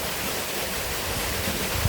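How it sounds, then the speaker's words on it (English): A waterfall on a nature walk roars as a steady, dense rush of falling water, continuous and fairly loud throughout with no other sounds. "And also a cool waterfall right there."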